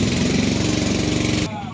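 A simple boat engine runs steadily on the Mahakam River in East Kalimantan, a loud continuous mid-pitched drone that drops away sharply near the end.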